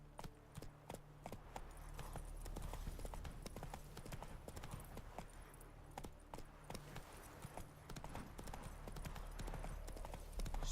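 A horse gallops in The Witcher 3, its hooves pounding in a fast, steady clip-clop rhythm that runs throughout with game ambience behind it, loud and close.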